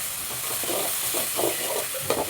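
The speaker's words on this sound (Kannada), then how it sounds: "ಚೆನ್ನಾಗಿ ಹಸಿ ವಾಸನೆ ಹೋಗೋವರೆಗೂ ಹುರ್ಕೊಂಡು ಉಪ್ಪು ಅರಿಶಿನ ಹಾಕಿ" Ground coriander paste with turmeric and salt frying and being stirred in a pan for kothmiri chitranna, a steady close sizzle with soft rhythmic scraping strokes throughout, no voices.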